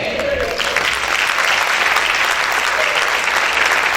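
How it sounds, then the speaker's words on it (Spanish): Loud, continuous applause from a church congregation, dense and steady throughout with a soft undertone of crowd noise. "Ese aplauso es para el Señor,"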